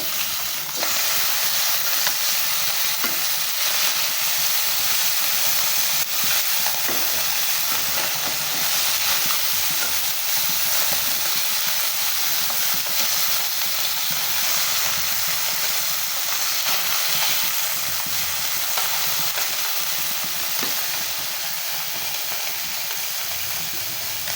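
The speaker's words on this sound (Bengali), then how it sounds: "এই মাছগুলো এখন উল্টে দেবো" Koi fish fry in a pan and are flipped, with a loud, continuous hissing sizzle that stays even for the whole stretch.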